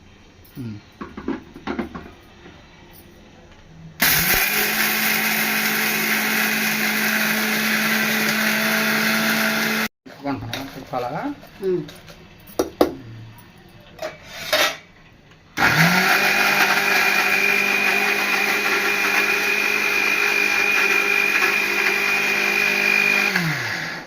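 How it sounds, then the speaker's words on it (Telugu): Electric mixer grinder grinding roasted spices for nallakaram, a village-style spice powder, with loud steady whirring bursts broken by short pauses, and brief talk in between. "okay mixie పట్టేస్తాను"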